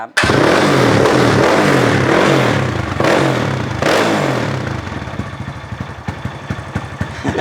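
A Honda Wave motorcycle with a 66 mm five-stroke nitrous setup revs loud and close, a rough, raspy engine roar that holds high and then drops toward a choppy, clattering idle.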